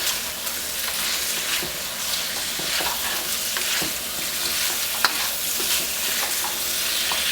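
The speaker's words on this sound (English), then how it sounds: "We can thoroughly coat the wings now. With the sauce." Chicken wings tossed in buffalo sauce in a pan, a continuous wet sizzle with repeated sloshing and stirring strokes, close and fairly loud, no talking.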